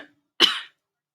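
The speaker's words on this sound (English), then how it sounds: "sorry, I just coughed in all of your ears." A single short, sharp cough, close and loud, stands alone in silence.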